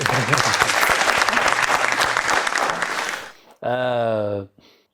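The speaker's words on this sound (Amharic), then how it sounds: "አጨብጭቡላት" Audience applause at a fashion modelling show, loud sustained clapping from a crowd that fades out, followed by a short burst of voice.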